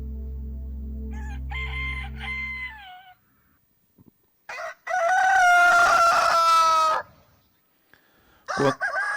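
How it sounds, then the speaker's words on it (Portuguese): A rooster crows as a sound effect in an Easter church play, one long loud cock-a-doodle-doo that comes after a short clucking call and is followed by another brief squawk, all over a low hum. "Quando o galo cantou"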